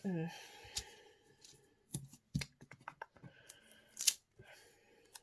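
Scissors snip a sticker in half with a series of short, crisp, close cuts separated by pauses, alongside a few quiet voice sounds.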